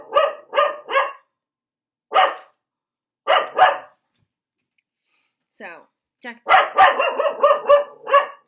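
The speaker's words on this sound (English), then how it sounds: "the dogs are going to get really loud" Several dogs bark in sharp bursts, first a quick run of three, then single barks spaced apart, ending in a dense flurry of overlapping barks; a person speaks briefly between them.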